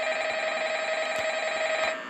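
A telephone in the video game Five Nights at Freddy's rings steadily with a continuous electronic trill, fairly loud and close, then cuts off near the end.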